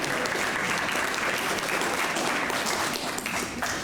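Sustained, dense applause from an audience at the Fairfield Forum community meeting, steady and fairly loud throughout with no break and no clear talk over it.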